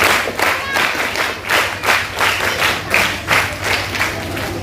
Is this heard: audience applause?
yes